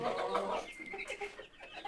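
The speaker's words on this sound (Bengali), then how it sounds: "এই দেখুন এখানে আমার মোরগ আছে মোটামুটি 25টার মতো।" About twenty-five roosters kept in a small ten-by-ten-foot room, clucking and calling over one another in a dense, continuous, close chorus with no talking.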